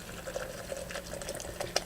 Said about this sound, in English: pour in hot water from the kettle